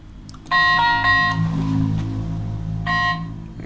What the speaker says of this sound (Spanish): Mi celular suena muy duro.